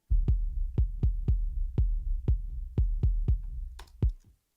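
A kick drum on a parallel-compressed aux, with lows and highs shelved off by extreme EQ, thumps about a dozen times in a steady, slightly uneven pulse, close and punchy with short boomy decays and no voices.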